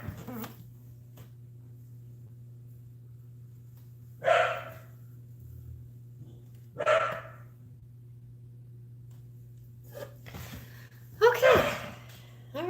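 A dog barks in four separate bursts spread apart, moderately near and fairly loud over a steady low hum, with speech in the background.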